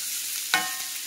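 Diced potatoes frying in a pan are stirred once, a sharp close scrape and clatter of utensil on pan over a soft steady sizzle, with a faint second touch just after.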